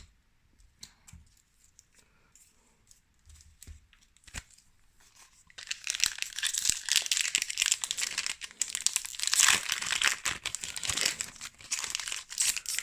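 A Magic: The Gathering Iconic Masters booster pack wrapper, stubborn to open, is torn open up close: a few faint rustles and clicks, then loud, sustained, close-up crinkling and ripping of the foil that continues to the end, with no talking.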